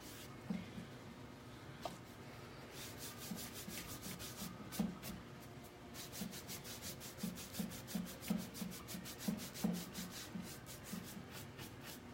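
Black wax is rubbed off painted furniture with a cloth in quick, rhythmic back-and-forth strokes, a close, soft scratchy rasping that comes in bursts of fast repeated passes.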